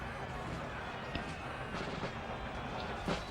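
Artillery fire in the strategy game Empire: Total War, with dull booms and scattered reports repeating irregularly over a steady, dense battle din.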